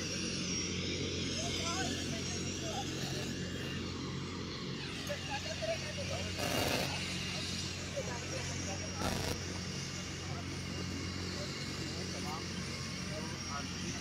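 A helicopter lands in Patna during an election tour, giving off a steady, distant rotor and engine drone with a couple of brief louder gusts and crowd voices underneath.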